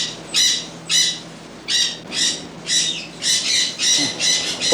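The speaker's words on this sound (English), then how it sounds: "This is where we keep all our little birdies." Many kinds of pet birds in an indoor jungle at the Playboy Mansion give about nine loud, harsh squawks, close by and repeating at roughly half-second to one-second intervals, with no voices.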